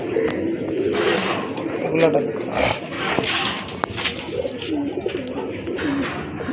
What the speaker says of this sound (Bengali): এটা হচ্ছে আপনার অরিজিনাল দেশি কবুতর